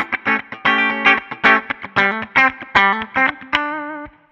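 Electric guitar on a clean tone through a Line 6 Helix with no compressor: a loud, close run of plucked notes in an uneven rhythm, ending on one sustained, fading note.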